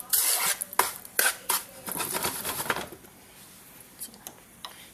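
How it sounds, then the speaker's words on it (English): Sugar melting in oil in a pot for Lao fried noodles, stirred with a utensil: quick scraping and clinking strokes against the pot over a faint sizzle, then fading to a quieter simmer with occasional taps. "So we're just gonna let it melt it with oil and cook it."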